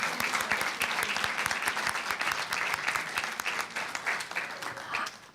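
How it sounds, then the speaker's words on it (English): A school board meeting audience claps in a steady round of applause for a young honoree, dense overlapping claps at moderate level that hold evenly before trailing off. "Let's give Kenny another round of applause."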